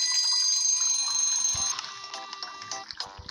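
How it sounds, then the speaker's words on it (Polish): Two bells in the Papa's Cluckeria cooking game, the shop doorbell and the milkshake-station bell, chime at once as bright, sustained metallic ringing that fades, followed by lighter scattered game clicks and blips. "W jednym momencie zadzwonił dzwonek do drzwi i w tym samym momencie zadzwonił dzwonek od shake'a"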